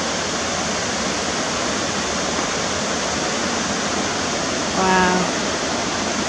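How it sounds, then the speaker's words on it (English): Glacier meltwater runoff from the Grindelwald Glacier rushes in a steady, loud, unbroken roar, and a voice briefly exclaims near the end. "This is the runoff from the Grindelwald Glacier."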